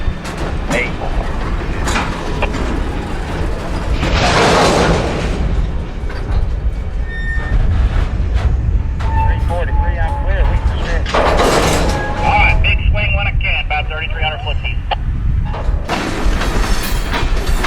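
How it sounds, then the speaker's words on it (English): A long freight train leaves a yard in Tampa, pulled by locomotives toward the main line, with a loud, steady rumble of engines and cars, clanking and metallic squeals, and bursts of hiss over the noise. "This is a big one and will take the locomotives all the way out of the yard and onto the main line."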